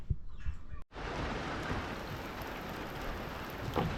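Rain pours down steadily under dark, overcast skies as a dense, even hiss. It cuts in abruptly after a brief moment of quieter sounds at the start and then holds at a constant level.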